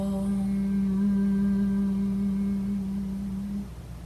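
A single voice holds a long, steady chanted Om (AUM) tone, a sustained hum that fades out near the end against a low background.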